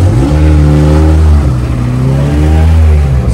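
A Peugeot 206 GTI 180 engine revving hard on a dyno, loud and close, rising through two sweeping rev runs, each climbing in pitch and then falling away.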